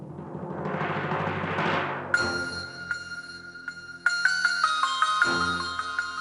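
A phone ringtone plays in a home setting, a bright electronic melody of repeated chiming notes that comes in after a swell of soft background music and keeps ringing in a steady pattern.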